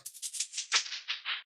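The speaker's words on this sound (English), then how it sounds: "I'm going to create a tape stop" Drum hits slowing and dropping in pitch under a tape-stop effect lowered 24 semitones, about ten bright percussive bursts in a steady pulse that sag downward before cutting off.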